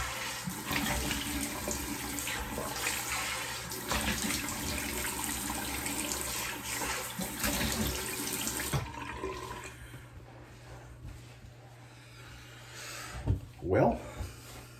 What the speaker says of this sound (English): Let's get rinsed off and see how we did.